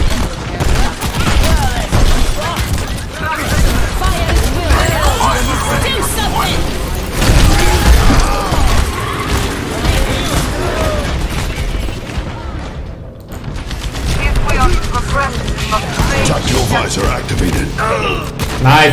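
Sustained video-game gunfire after a command to open fire: dense volleys of shots and heavy booms fill the whole stretch, loud and close, with a brief lull near the end before firing resumes.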